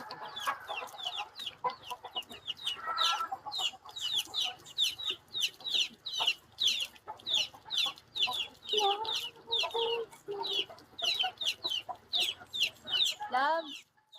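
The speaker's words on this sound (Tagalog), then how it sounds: "madaming manok pero hindi akin yan" Many chickens cluck and squawk in rapid, overlapping bursts, close and lively throughout, with someone talking now and then among them.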